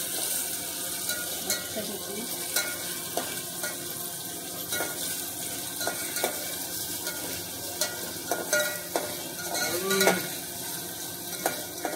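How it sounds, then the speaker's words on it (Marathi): Paneer cubes fry in hot oil with a steady crackling sizzle, punctuated by repeated scraping taps of a spoon stirring in the pan, close and moderately loud with no talk. "आता थोडासा लाल करून घ्यायचा आहे पनीर."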